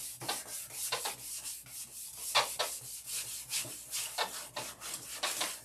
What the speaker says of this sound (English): So much sanding left to do.